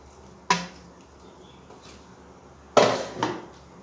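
Whole spices, cinnamon stick, cloves and green cardamom with coriander and green chilies, drop into a cooking pot in two sharp, close clatters, each trailing off briefly.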